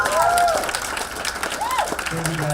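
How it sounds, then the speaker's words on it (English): Audience at a band's Q&A event in Salt Lake City applauds the band, a steady wash of clapping with crowd noise and voices talking and calling out over it throughout. "One more big round of applause."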